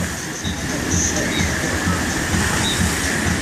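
Someone riding down the green Shrek water slide at the Aqua Blu Hotel, a continuous rumbling rush with faint higher whistling tones mixed in, steady and fairly loud.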